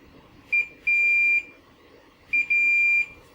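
A multimeter on continuity mode gives two pairs of beeps while checking a soldered joint on a Commodore 64 board: a short chirp, then a longer steady tone, each pair close and clear over faint background hiss.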